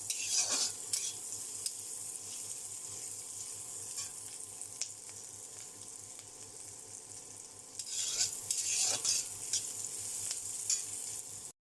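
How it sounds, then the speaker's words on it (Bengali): Onions and green chillies fry in a pan of oil, giving a steady close sizzle for the whole stretch, with stirring scrapes and a louder burst of crackling near the end. "তো আমার পেঁয়াজ আর কাঁচা লঙ্কা ভাজা হয়েছে"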